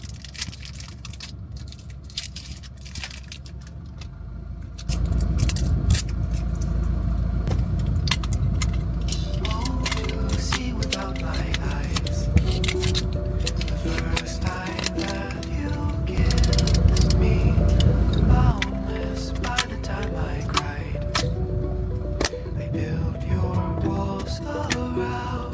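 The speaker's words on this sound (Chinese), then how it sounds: "给大家来一个沉浸式上卷" Film being wound into a camera by hand, a close, crisp run of ratcheting clicks and small mechanical ticks that goes on steadily and grows denser and louder partway through, with no voices.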